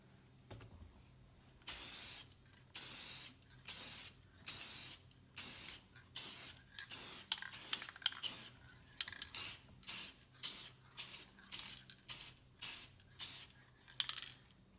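An aerosol can sprays lacquer finish across a guitar kit's neck and headstock in a long series of short, close hissing bursts separated by brief pauses, about fifteen passes in quick rhythm.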